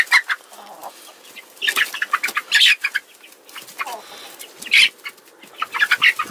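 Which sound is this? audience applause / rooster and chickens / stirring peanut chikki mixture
rooster and chickens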